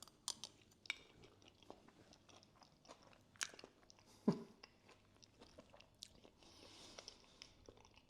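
Crispy-topped bacon mac and cheese gets bitten and chewed up close, with sparse quiet crunches and wet mouth sounds, one sharper crunch standing out midway.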